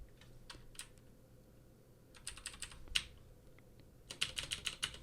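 Terminal command typed on a computer keyboard, heard as quiet scattered keystrokes in a few short bursts over a low background hum, with a quicker cluster of clicks near the end.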